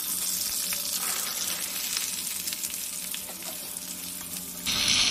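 Nigella seeds with dried and fresh green chillies frying in hot oil for a Bengali curry tempering, a steady close sizzle throughout with a brief burst of louder crackle near the end.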